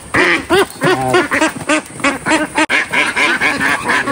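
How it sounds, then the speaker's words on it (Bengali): Khaki Campbell ducks, an egg-laying breed, quack loudly and close by in rapid overlapping bursts throughout, several birds calling at once. "খাকি ক্যাম্বেল জাতের হাঁস, সবগুলোই ডিমের জন্য বিখ্যাত।"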